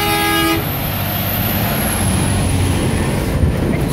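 A truck's air horn gives a loud, steady toot in the first half second over road traffic noise, then a passing truck and cars rumble on with a faint high whine.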